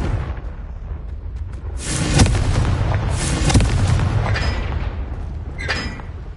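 The Confringo fire spell from the Hogwarts Legacy video game erupts in heavy booming blasts, with sharp bursts near two and three and a half seconds over a rumbling fiery roar and scattered crackles.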